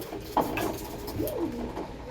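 Teddy pigeons, a newly acquired pair, give a soft low coo with a gentle rising-falling contour, close by over steady room noise and brief rustling.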